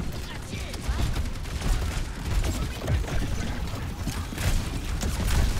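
Continuous gunfire and explosions in the Overwatch video game, with dense rapid shots and booms during a fast match that stay loud throughout, mixed with clattering mechanical game effects and some talk.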